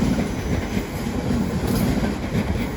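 A London Northwestern Railway service to Crewe pulls out of London Euston, a loud, steady rumble of wheels and carriages rolling close by with a continuous rail roar.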